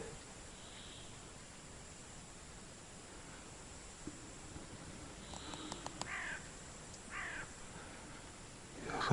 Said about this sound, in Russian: Вороны закричали.